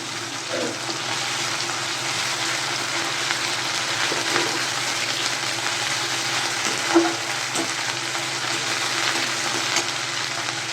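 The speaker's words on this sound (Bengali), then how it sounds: "আমি আদা রসুনটা দেবো, দিয়ে একটু নাড়বো" Ginger-garlic paste is stirred into softened tomatoes frying in a pan, giving a steady, loud, close sizzle with faint scraping of the stirring spoon throughout.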